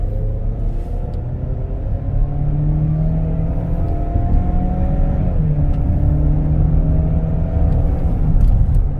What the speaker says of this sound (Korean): 100km까지 가속하는 데는 등치에 맞지 않게 정말 빠르게 변속이 되고, 그리고 빠르게 치고 나갑니다